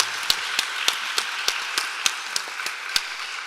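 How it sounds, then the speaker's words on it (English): Sparse, slow clapping after a panel discussion, a handful of distinct sharp claps in an uneven rhythm over a quiet room, no talking. "And one more round of applause,"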